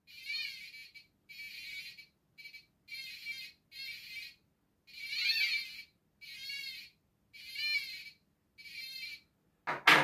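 A clone PI-AVR DIY pulse-induction metal detector signals over a coin with about eight evenly spaced, warbling electronic beeps separated by silent gaps, ending in a short harsh burst.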